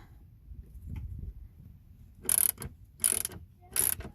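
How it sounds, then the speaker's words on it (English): A socket ratchet with a 10 mm socket loosens two anode bolts on a 2020 Yamaha AR210 twin-engine jet boat, giving three short, sharp bursts of clicking after a quiet stretch with faint low rumble. "So this is the anode, and we're going to take out these 2 bolts. All right, so we'll just loosen these. This is a 10 millimeter socket."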